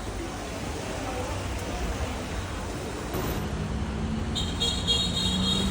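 Busy street traffic in Hanoi, Vietnam, forms a steady, close roar of motorbikes and cars, with faint horn toots near the end.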